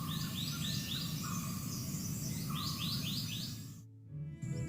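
Repeated chirping bird calls ring out over a steady bed of insect and cricket buzz in an outdoor natural setting, with a pattern of quick descending notes in several bursts before it cuts off.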